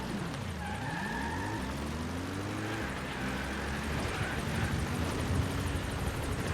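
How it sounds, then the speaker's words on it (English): A support helicopter arrives at a landing zone in Metal Gear Solid V: The Phantom Pain, heard as a steady, whirring engine and rotor drone with a falling pitch sweep, moderately loud and with no talking. "Support helicopter has arrived."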